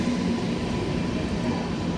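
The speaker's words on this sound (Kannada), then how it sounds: "ಈಗ ನಮ್ಮ ಟ್ರೈನ್ ಬಂದೈತೆ" A train pulls into a station on the Arsikere to Davangere line, heard as a steady, close, broadband rumble that holds level for the whole stretch with no voices over it.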